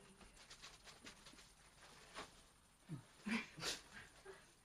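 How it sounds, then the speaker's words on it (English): A dog whimpers and breathes in a few short, soft bursts toward the end, faint and somewhat distant in a quiet indoor room. "My dog, I guess."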